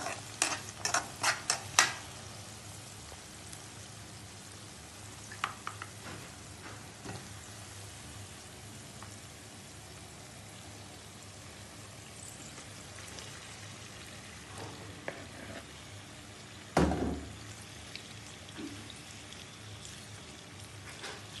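Fish pieces frying among browned onions in a pan, a faint, steady sizzle with a quick flurry of spoon scrapes at the start, scattered taps, and a louder clatter near the end.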